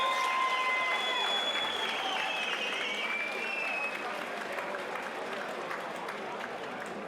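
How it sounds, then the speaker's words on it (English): A crowd at a UKFC fight event applauds and cheers steadily, broad continuous clapping with whistles and shouts rising early, then slowly easing off. "give these two warriors a huge round of applause"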